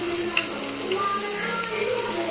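Chopped onions and curry leaves frying in a pan during home cooking, making a loud, continuous sizzle with a few faint clinks and a whistling tone underneath.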